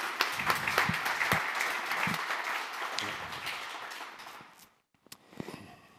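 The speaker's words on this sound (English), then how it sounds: "Give a big applause to Malte." A conference audience at an analytics masterclass applauds, a dense spell of clapping that thins out and stops, followed by a few scattered claps.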